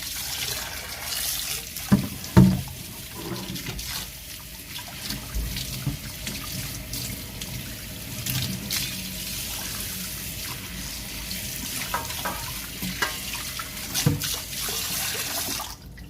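Tap water runs steadily into a sink as a Chinese wrought iron wok is rinsed, with splashing and occasional clanks of the metal pan close by.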